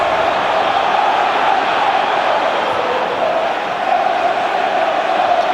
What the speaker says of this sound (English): The crowd are lifted.